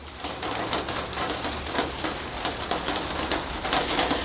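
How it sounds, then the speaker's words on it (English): Rain drums steadily on the roof of an indoor bonsai growing area, a dense continuous patter with scattered sharper drops ticking through it, moderately loud and with no voices. "You can hear the rain on the roof."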